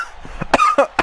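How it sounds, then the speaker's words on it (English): Several sharp coughs in quick succession, close and fairly loud, with short gaps between each burst and no talk over them. "That's coughing right there"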